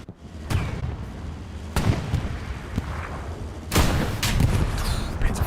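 Rocket explosions in Hell Let Loose on the Utah Beach Chapel map, several sharp loud blasts cracking over a rumbling battlefield bed of distant fire, with the bangs spaced a second or two apart.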